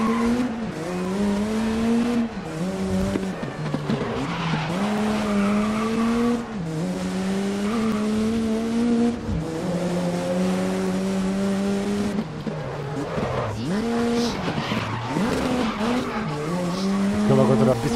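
Race car in the GRID racing game screeching as its tires skid under hard braking, a loud continuous squeal with shifting pitch over droning engine noise through corners, with no pauses.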